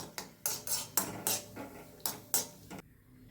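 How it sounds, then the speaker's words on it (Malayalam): Cashew nuts fry in ghee in a pan as a metal spoon stirs them, making a few sharp, close scrapes and clinks in quick bursts before going quiet. "ഇനി കുറച്ച് അണ്ടിപ്പരിപ്പ്, അതും കൂടെ വറുത്ത് പോരാം"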